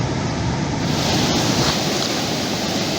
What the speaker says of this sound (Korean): 여기는 파도가 조금 잔잔한 편이고